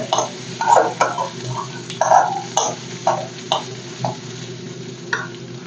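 Homemade mango pickle mixture frying in a pan while a spoon stirs it, with irregular scraping strokes over a soft steady sizzle, close and without talk.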